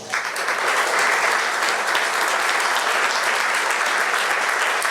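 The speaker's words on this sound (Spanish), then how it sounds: "Un fuerte aplauso, por favor." A panel audience at a justice forum gives loud, sustained applause, a thick, steady wash of many hands clapping throughout, with no break and hardly any voices.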